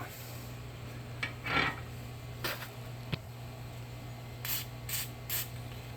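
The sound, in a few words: spraying white lithium grease on a bearing press washer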